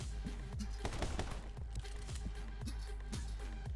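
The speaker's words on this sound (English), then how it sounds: "Or is that just a normal gunshot?" Rapid gunshots crack in the video game My Friend Pedro, a dense run of repeated shots over a busy game soundtrack, loud and close.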